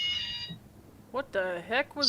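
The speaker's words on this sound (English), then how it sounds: "that is my alarm" A phone alarm goes off with a steady electronic beeping tone at moderate level, followed by people talking.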